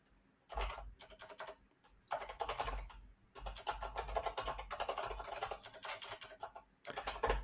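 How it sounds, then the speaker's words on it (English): Bursts of rapid typing on a computer keyboard, clattering in several runs separated by short pauses, fairly close and clear with no talking. "You also get to see how badly I type when it's actually me typing."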